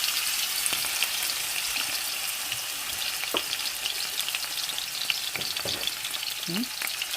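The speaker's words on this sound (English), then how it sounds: "the oil is hot, so we're going to go ahead and add our beef" Beef sizzles and crackles in hot oil in a pan for Blanchard-style ramen lo mein, a dense continuous hiss with scattered pops and a few stirring scrapes, close and fairly loud.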